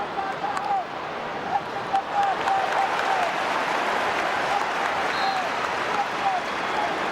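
A big Donegal crowd of around 20,000 supporters roars and cheers in a Dublin stadium during an All-Ireland football quarter-final, a broad sustained wash of noise under a commentator's voice.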